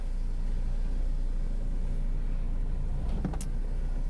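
A Ford Focus on a test drive rumbles along at low speed with steady road and engine hum inside the cabin, a brief squeaky rattle rising near the end.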